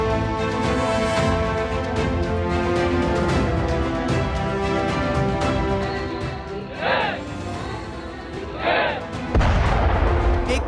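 Heavy blasting at the Sela tunnel construction site, a deep rumbling roar followed by a couple of sharper cracks and a loud low thud near the end, with narration running throughout.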